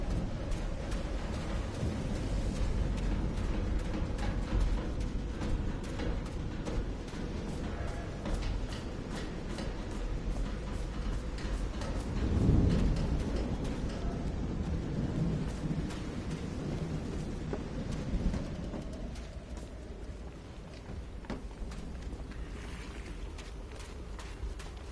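Storm in the game Call of the Sea, with constant rain hissing and deep thunder rolling, swelling to a heavier rumble around the middle before easing slightly; no voices.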